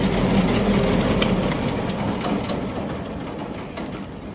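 A paddy rice cleaning machine runs with a steady mechanical drone and a faint rattling churn, a constant loud whir that holds evenly throughout.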